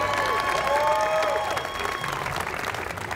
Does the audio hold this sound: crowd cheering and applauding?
yes